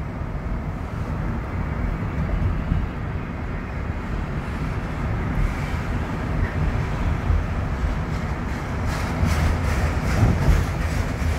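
A slow-moving train rolls past on the railway track, a steady low rumble of wheels and cars that carries on throughout at moderate distance, with faint rattling growing toward the end.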